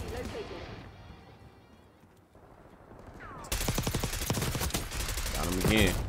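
Rapid automatic gunfire rattles in Call of Duty Black Ops 6, starting muffled and distant, then bursting into a loud, sustained stream of close shots with metallic clinks and game sounds.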